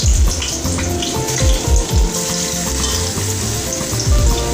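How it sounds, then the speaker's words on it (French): Rabbit pieces fry in very hot olive oil, a loud, close, continuous crackling sizzle with repeated low thuds and scraping stirs at irregular intervals. "nous allons frire les morceaux de lapin dans de l'huile d'olive"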